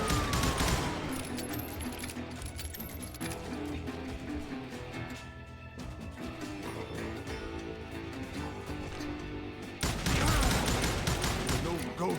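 Gunfire in the Call of Juarez: Gunslinger western shootout, a dense run of shots over music, with a loud burst near the end; a voice narrates in the background.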